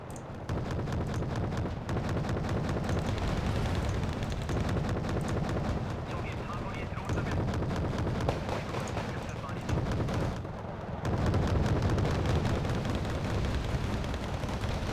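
Battle in Wargame: Red Dragon, set in a Second Korean War campaign, where gunfire and artillery roar continuously as a dense, rumbling barrage and thicken toward the end.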